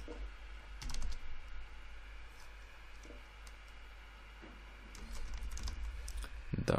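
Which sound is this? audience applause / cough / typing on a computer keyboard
typing on a computer keyboard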